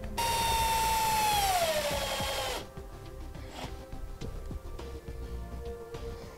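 A power driver runs a screw in while a trailer brake controller is mounted, a loud whirring whine that drops in pitch as it slows under load for about two seconds, then gives way to quieter handling clatter.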